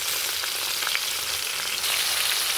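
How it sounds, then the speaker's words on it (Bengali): Pointed gourd and okra frying in a generous amount of oil while being stirred, giving a steady, close hiss with light scraping ticks throughout, no voices. "বেশ খানিকটা তেল দিয়ে আমি এটা ভাজা ভাজা করে নেড়ে নিচ্ছি, দেখুন।"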